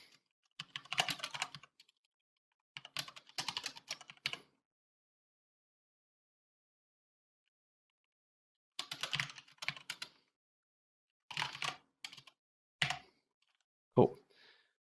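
Typing on a computer keyboard in bursts of rapid key clicks, separated by long silent pauses, with a few single sharp taps near the end; close and clear, no talking.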